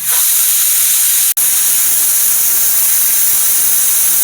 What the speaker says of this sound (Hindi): कुकर का गैस निकल रहा है